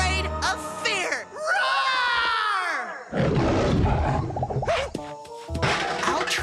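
A cartoon character's voice imitates an animal roar, a drawn-out growling cry among splashy cartoon sound effects and music in a beach-cleaning island scene.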